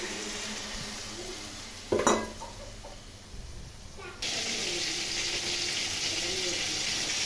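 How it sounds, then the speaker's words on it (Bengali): Vegetables and stalks seasoned with salt and turmeric fry in a pan, a sizzling hiss broken by a sharp clatter of stirring, then the frying swells louder and steadier toward the end. "এখন খুব ভালো করে ভেজে নিচ্ছি।"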